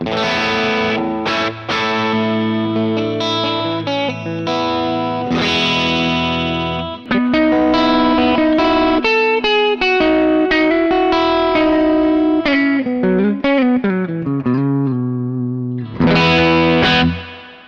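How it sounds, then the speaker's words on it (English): A Les Paul electric guitar played through a Dynastar Aileron tube amp set at the edge of breakup, giving lightly driven, warm chords and single-note lines with sustain and brief pauses, loud and close, with no talking. "a really nice edge of breakup sound that's perfect for the style of music that I play and perfect for this Les Paul"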